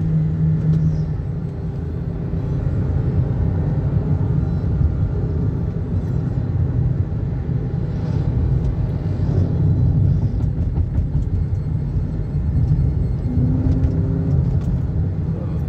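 A Toyota Sienta with a seven-speed CVT accelerates hard toward redline and shifts on its own, giving a steady, loud engine and road rumble that carries on throughout with no talk.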